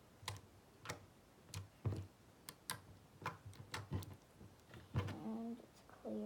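Clear slime being squeezed and stretched by hand, giving a string of sharp, quiet clicks and snaps at an irregular pace, with no talk in between.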